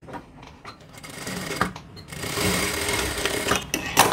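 An electric sewing machine stitches a blouse armhole in quick bursts, its rapid mechanical whirr stopping and starting, with short pauses and fabric handling between runs.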